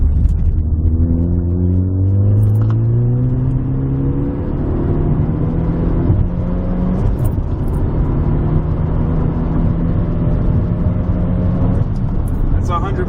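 A Ford Focus ST with a front mount intercooler accelerates hard through 4th gear up to 100 mph, its engine note climbing steadily in a loud, continuous rising drone with road rumble underneath.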